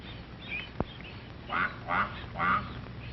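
Mother duck calling her ducklings out in a grassy meadow, three loud nasal quacks in quick succession after a sharp click, heard on an old, thin-sounding recording.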